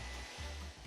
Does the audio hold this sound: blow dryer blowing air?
yes